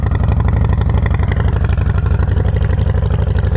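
A performance-oriented motorcycle with a digital speedometer idles just after starting, its engine loud and close with a fast, steady, lumpy pulse and slight mechanical clatter.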